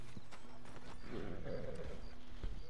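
A horse in the Red Dead Online video game clip-clops softly at close range, the hoof steps faint and uneven over a low ambient background.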